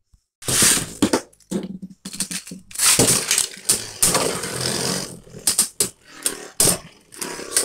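A Mirage Fafnir Beyblade top is launched and spins in a stadium, close and loud, with harsh scraping, whirring bursts and clattering impacts broken by short quiet gaps.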